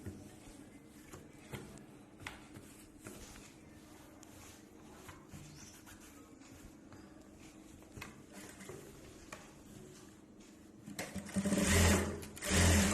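A sewing machine stitches a knit dress for a two-year-old in quick, rattling bursts separated by short pauses, close by, with a louder, faster run of stitching near the end and no speech.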